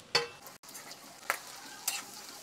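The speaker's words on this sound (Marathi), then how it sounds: "बघा मिरची मस्त परतून घेतली आहे आणि हा कट केलेला कांदा टाकते मी आता" Chopped long onion going into a pan of frying green chillies, sharp bursts of sizzle and stirring against a quiet background, three distinct crackling surges a moment apart.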